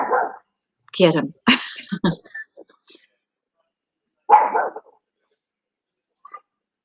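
Several dogs bark from a deck overhead in short, sharp bursts, mixed in with nearby talking.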